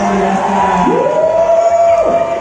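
A concert crowd at a show roars and cheers in a dense, continuous wall of sound, with a loud sustained whoop or shout rising above it midway.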